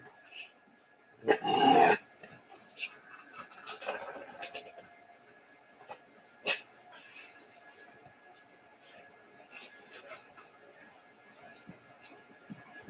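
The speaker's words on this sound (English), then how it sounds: "Oh, yes, you're good dogs." Dogs indoors at home let out a short loud burst of barking and growling early on, followed by softer scattered dog sounds and quiet stretches.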